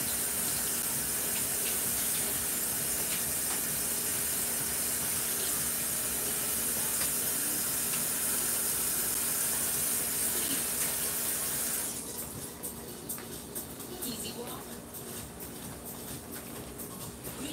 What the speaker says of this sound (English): So you're pretty much just gonna wash your pollock